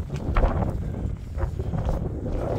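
Strong wind buffets a mountaintop on the Appalachian Trail near Max Patch, a continuous loud rumbling roar gusting against the microphone with no speech.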